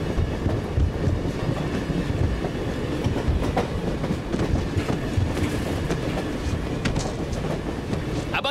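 A train rumbling along with a steady, loud roar and faint rhythmic clacking of wheels on track, heard from close by.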